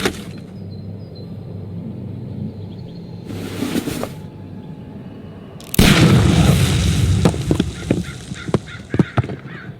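A pistol shot fired at a dynamite package in the Sherlock Holmes Crimes and Punishments game, with a sudden loud burst and rumbling blast that tails off into scattered debris clatter over quiet ambient background.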